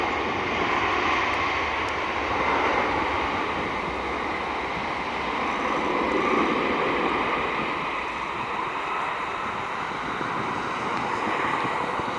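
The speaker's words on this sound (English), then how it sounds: "We got a FedEx 757 heading out." A FedEx Boeing 757 departs Cleveland airport, its jet engines a loud, steady broadband roar that holds for several seconds with no one talking.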